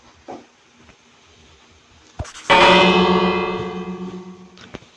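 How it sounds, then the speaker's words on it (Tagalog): A bell rung in Minecraft Bedrock Edition gives a single loud, resonant strike after a couple of soft clicks, its metallic tone ringing on and slowly decaying over several seconds. "Ring the bell."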